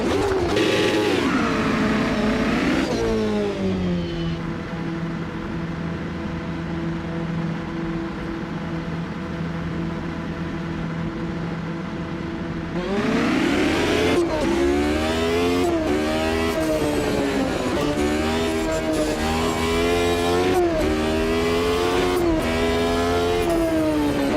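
Car engine revving in the racing sim Automobilista 2, loud and close, holding a steady drone before climbing and falling through repeated sharp rev sweeps, with no talking.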